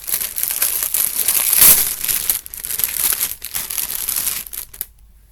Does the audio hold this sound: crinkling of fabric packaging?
yes